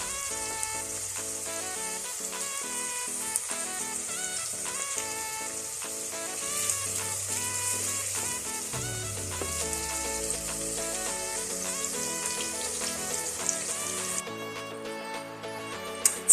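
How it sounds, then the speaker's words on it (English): Onions fry and brown in a pan for a lamb and potato curry, a steady soft sizzle running through the whole stretch beneath louder background music. "So we're just going to let these onions brown up"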